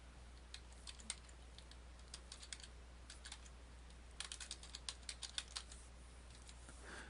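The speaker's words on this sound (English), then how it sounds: "Type in your username and password that you just created." A computer keyboard is typed on in short clustered bursts of soft, close keystrokes while entering a username and password, faint over a low steady hum.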